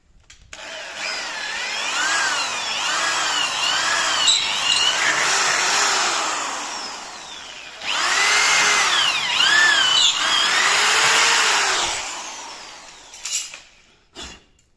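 A power drill whines in two long runs while fitting front doors on an owner-built house, its pitch rising and falling as the load changes, close and loud with a brief clatter at the end.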